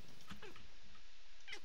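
A cat in the video game PUBG gives a couple of short meows, brief and moderately clear over a steady low game background, with no talking in between.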